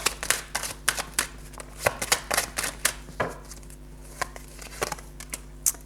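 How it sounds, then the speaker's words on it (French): Tarot cards being shuffled and drawn, a steady run of crisp papery riffles and slaps close by, with soft card flicks and no talking. "je vais retirer quand même une petite carte dessus pour voir"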